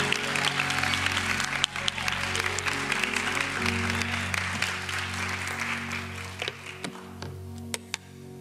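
An audience claps steadily and loudly to welcome Dr. Phil to a church marriage session, the applause going on for the whole stretch over soft sustained music, with scattered louder claps standing out.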